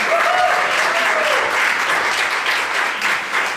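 Audience applause at a summit event, steady dense clapping that fills the hall throughout, close and loud, fading slightly toward the end.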